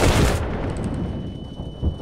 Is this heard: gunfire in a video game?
yes